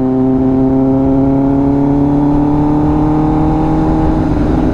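Kawasaki ZX-10R sport motorcycle engine revving on the road, a loud steady high-pitched drone with a gradually rising tone, close and continuous with no talk.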